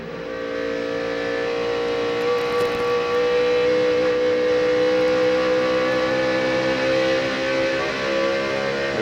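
NASCAR Cup race car engines at high RPM around 8,000 to 9,000 during the 2007 Auto Club 500, a loud, sustained, tonal engine roar that holds steady for the full stretch with slight swells and no voices.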